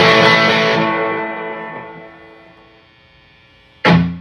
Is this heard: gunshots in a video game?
no